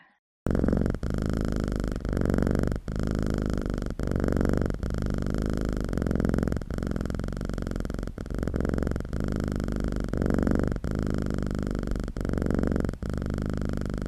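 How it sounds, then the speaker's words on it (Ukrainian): A curled-up cat purrs contentedly and up close, a low rumbling purr pulsing in a steady rhythm of breaths, alone and uninterrupted. "Він згорнувся клубочком і задоволено муркоче."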